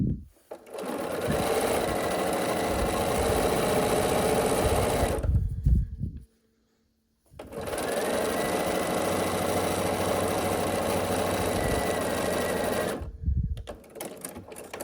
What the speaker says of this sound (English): I put it on top of the other one and I sew all the way down along one side